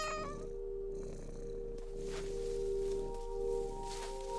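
A cat meows with a rising, strained cry at the start of a scene in the video game What Remains of Edith Finch. Steady game music tones and soft rustling continue underneath after the call.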